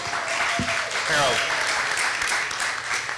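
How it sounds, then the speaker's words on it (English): Applause from a breakfast crowd at an employee milestone event as staff members depart, steady clapping throughout with some voices mixed in. "You depart with applause"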